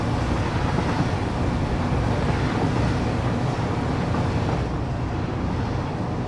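A train ride in the video game Satisfactory, with a steady, loud rumble of wheels and engine that holds constant the whole way, with no breaks and no voices.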